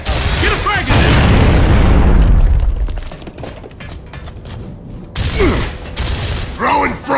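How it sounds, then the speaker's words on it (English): Frag grenade blast in Gears of War, one heavy booming explosion that rumbles and fades over a few seconds, followed by quieter clanks and scattered game noise. "Fire in the hole! Get a frag in there!"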